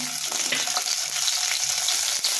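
Tomato and onion fry in a hot pan with green chillies for a leafy-greens chutney, a steady, close, bright sizzle running unbroken throughout, with faint stirring knocks beneath.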